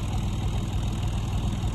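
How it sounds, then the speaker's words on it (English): A Massey Ferguson tractor engine idles steadily up close, a low continuous rumble with an even throb and no voices. "Well, that tractor sounds good, don't it?"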